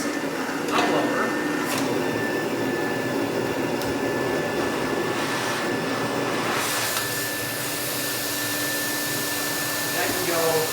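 A Rainbow vacuum cleaner runs as a blower with a steady, loud, airy roar and a thin high whine, continuing unbroken while someone talks over it.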